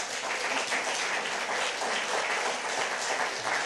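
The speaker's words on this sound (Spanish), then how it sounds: "Dele un aplauso, Señor," Sustained applause from a church congregation fills the space, a dense, steady wash of many hands clapping without break, with no talk over it.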